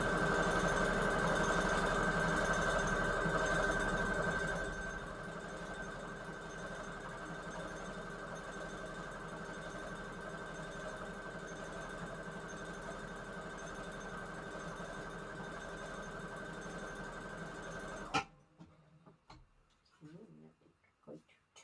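Sewing machine running a decorative swirly stitch while assembling a paper junk journal, a steady continuous mechanical whir that stops abruptly near the end, followed by faint handling noises.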